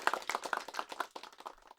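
A sparse smattering of hand claps from a small crowd of fans after a match, a dozen or so quick uneven claps fading out within two seconds.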